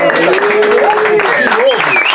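An audience claps for a colleague's birthday greeting at a live advertising-industry event, with steady, close applause running under people talking and laughing.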